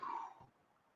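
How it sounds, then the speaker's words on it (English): A single harsh cough from a person suffering from whooping cough, loud and close, trailing off into quiet after about half a second. "I have not been able to get off this freaking whooping cough for forever."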